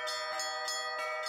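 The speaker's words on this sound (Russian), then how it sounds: "Музыка колоколов, вообще она звучит прекрасно и для души, и для сердца." Church bells ring in a steady peal, bright overlapping strikes about every third of a second with long ringing tones sustained between them, clear and alone.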